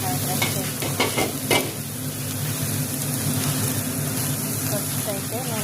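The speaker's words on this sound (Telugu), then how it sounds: "బటర్లో కరివేపాకు పచ్చిమిర్చి ఫ్రై చేసిన తర్వాత క్యారెట్ క్యాప్సికమ్ క్యాబేజీ వేసి ఇలా ఫ్రై చేసుకుంటాం." Curry leaves and green chillies fry in butter with carrot, capsicum and cabbage for prawn fried rice, giving a loud, steady close-up sizzle broken by a few scraping stirs early on.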